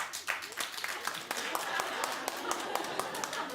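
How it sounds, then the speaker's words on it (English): A studio audience on a talk show claps, a moderate scatter of hands building into steady applause that continues to the end. "clap if you have it"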